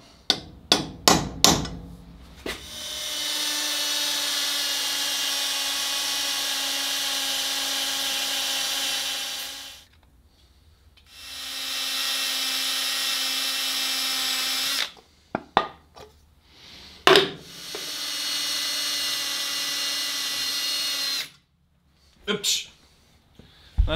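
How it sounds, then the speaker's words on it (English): A power drill whines in long sustained runs into a John Deere 1050 tractor's engine metal at a center punch mark, stopping and restarting three times, with sharp metallic taps and clanks between the bursts. "we're going to do a center hole punch to drill"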